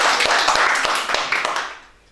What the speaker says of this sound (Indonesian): Oh, tepuk tangan dulu dong.